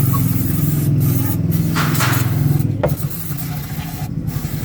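Engine cleaner sprayed into the engine bay of a high-mileage Mitsubishi Mirage: bursts of hissing spray, close and steady, over a low running engine hum.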